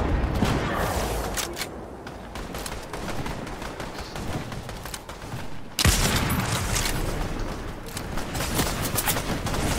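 An NPC fires on players in Fortnite Chapter 3 Season 4, producing a dense, crackling volley of gunshots that dips briefly then surges abruptly louder and continues without pause.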